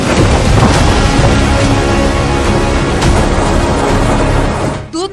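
Violent nor'wester storm in Assam strong enough to uproot trees and tear off tin roofing, heard as a loud, continuous broadband roar of wind and rain with no pauses, close and overwhelming, dropping slightly at the very end.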